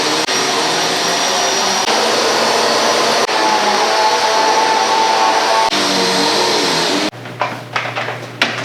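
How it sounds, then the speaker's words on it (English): A vacuum cleaner runs steadily on a floor during home cleaning, a loud close roar that holds for several seconds with brief bumps, then cuts off into quieter handling noises. "So let me just vacuum the floor."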